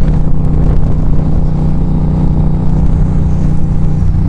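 A Yamaha FZ-07 motorcycle rides through town on a cold, sunny Colorado day. Its engine drones steadily and loudly up close, mixed with a constant rush of wind.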